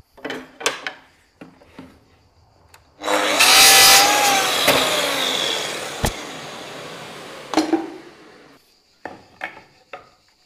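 A power tool cuts a stopped groove into wood, giving a loud burst of whining and cutting noise lasting a few seconds, framed by clicks, knocks and handling sounds on the bench before and after.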